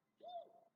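A single soft, faint pigeon coo, short and low, standing alone in quiet.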